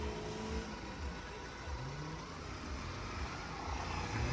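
Off-road vehicle engine revving steadily on a slushy trail, a continuous low rumble with mild swells in RPM, fairly close and constant throughout with no talk over it.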